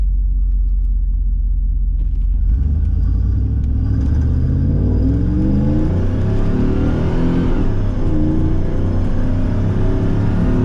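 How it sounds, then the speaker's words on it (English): A Camaro Z28 engine revs up and accelerates, a loud rising rumble with climbing tones, close and continuous, no talking. "I'm gonna get the tires hot."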